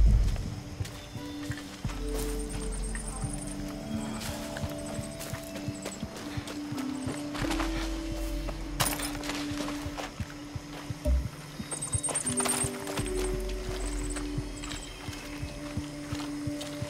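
A horse gallops in the video game Far Cry 6, its hooves a steady rapid clip-clop heard close and continuously, with a low game soundtrack humming underneath and brief brighter accents.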